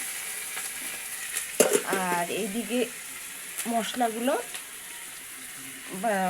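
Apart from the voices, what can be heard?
frying fish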